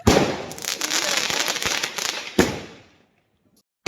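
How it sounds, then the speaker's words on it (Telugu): A rapid string of firecrackers bursts during a family Diwali celebration, dense crackling pops up close for about three seconds, then a louder bang, silence and one last sharp pop. "బాంబులు ఎట్లా వెళ్తున్నాయి?"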